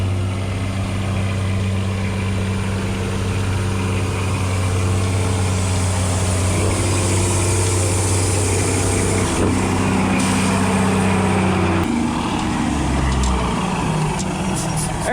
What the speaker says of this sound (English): Let me show you this truck that's loaded backing up over it.